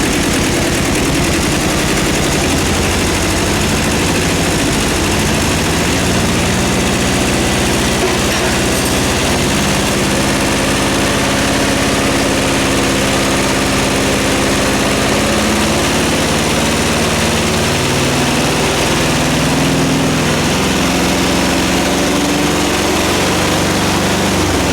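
A Kubota tractor's diesel engine runs loud and close for the whole stretch, a steady rattling throb that climbs in pitch as it is revved up, with no talk over it.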